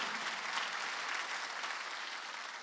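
A church congregation claps steadily in sustained, even applause during a Wednesday service, tapering slightly at the end.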